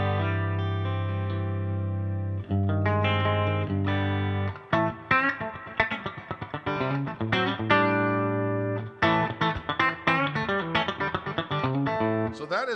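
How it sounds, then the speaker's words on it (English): Electric guitar played on its regular bridge pickup during a live session: a sustained chord rings first, then a run of rapidly picked, bright, articulated notes follows, loud and up close. "So that is the regular bridge pickup sound."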